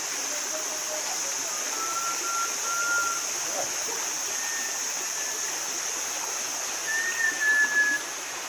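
A forest stream beside a jetty-style deck in a tea-estate area of Kuttikkanam flows in a steady, close rushing wash, while faint bird whistles rise now and then above it.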